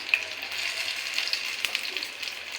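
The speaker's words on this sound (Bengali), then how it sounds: "দেখেন কত তাড়াতাড়ি ভাজা হচ্ছে" Pumpkin flower fritters coated in gram flour batter fry steadily in hot oil, giving a continuous soft sizzle with small crackling pops throughout, no voices over it.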